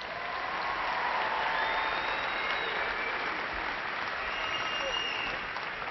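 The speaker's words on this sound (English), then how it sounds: "And please honor these graduates with a round of applause." Applause at a university fall commencement ceremony, steady and sustained from a large audience, filling the hall evenly for several seconds without a break.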